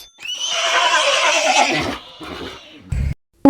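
A horse gives one long, loud, close neigh lasting about two seconds, then falls quiet apart from a short thump near the end.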